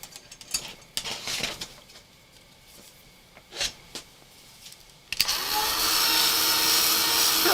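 Hair dryer switching on to dry paste paper, a loud steady whooshing blast of air after several seconds of scattered handling noises.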